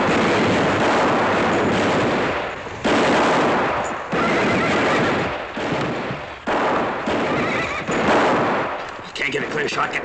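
Loud, dense gunfire fills a classic western TV episode, with sustained bursts of shots roaring almost continuously. The volume dips briefly between volleys before it resumes at full force.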